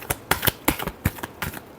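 Tarot cards being shuffled in a series of about eight crisp riffling bursts, close and moderately loud, with no talking.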